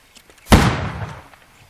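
A single loud musket shot in a Holdfast line-battle video game, one sharp boom with a short decaying tail, heard alone.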